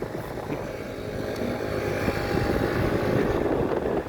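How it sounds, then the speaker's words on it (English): Steady wind buffeting a microphone outdoors, a continuous low rumbling roar that builds slightly louder toward the end, with no talk over it. "Hopefully you all can hear me and not the wind."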